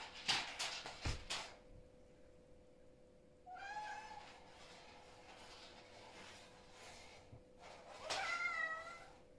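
A house cat meows twice indoors, first a short rising call and then a longer one several seconds later, both faint against quiet room tone after a few soft knocks.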